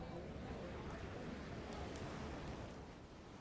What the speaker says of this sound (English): There should be a whoosh, which is sound of waves.